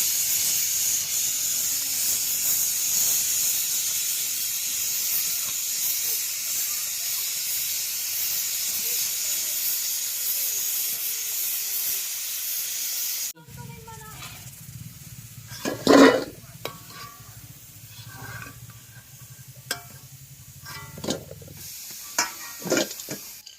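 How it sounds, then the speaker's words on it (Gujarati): Oil sizzles and hisses steadily as baati dough balls fry outdoors on a farm, then the sizzle drops away to quieter crackles and a few clinks. "બાટી તળવી"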